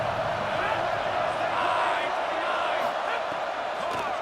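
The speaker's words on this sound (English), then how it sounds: "Decibels rising as the crowd gets behind this defense on 3rd down" A crowd roars loudly and continuously in a college football video game as the defense lines up on third down, a dense, even wash of cheering with no breaks.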